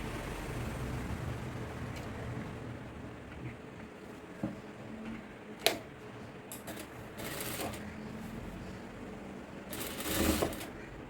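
Domestic sewing machine stitching pinned fabric pieces together while joining a sleeve for a kurti, a steady low mechanical whir running throughout with a few sharper clicks and a louder burst near the end.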